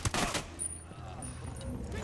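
A close, sharp burst of gunfire opens a short firefight in the Ghost Recon Wildlands video game, followed by quieter scattered shots and background game noise.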